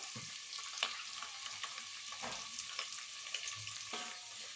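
Eggs fry in a pan with salt and turmeric, giving a steady, fairly quiet hiss. Occasional light clicks and scrapes come through, with no voice.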